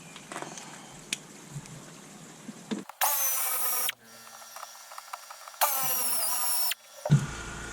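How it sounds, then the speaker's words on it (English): An old-style pneumatic air ratchet removes Torx screws on a 2018 Porsche Cayman during headlight bulb work, firing in two loud bursts of about a second each between quieter handling noises. "I'm old school. I've got an air ratchet."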